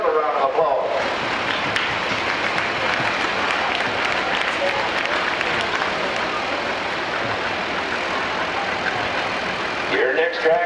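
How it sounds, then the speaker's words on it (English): Crowd applause at a county fair 4-H coronation and tractor parade, steady clapping from many people for about nine seconds, with an announcer's voice just before and after. "Give them a round of applause."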